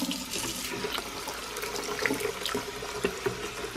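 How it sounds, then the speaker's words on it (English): Tap water gushing steadily into a pitcher, a loud, close splashing rush that holds constant throughout. "And you go ahead and turn on some good old tap water."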